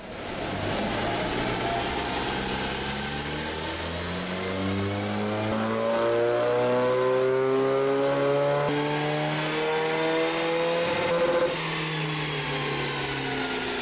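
A Mini fitted with a BMW B47 diesel engine runs on a dyno, loud and close, its engine note climbing steadily in pitch as it is run up, holding high, then dropping near the end, with no talking.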